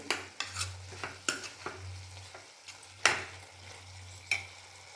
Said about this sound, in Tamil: இந்த சப்ஜி பொடியை நம்ம இதில் போடணும். போட்டு ஒரு கிண்டி கிண்டி